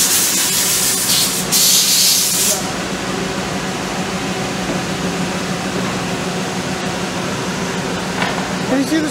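An Okuma Howa ACT 35 CNC machine running empty gives off a steady, loud hiss and hum that fill the whole stretch. A brighter airy burst near the start fades into an even drone.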